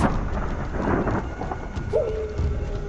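A thunderstorm with strong wind and rain, used as a story sound effect: a continuous rumbling, rushing wash of rain and wind with low thunder, steady and close, no voices.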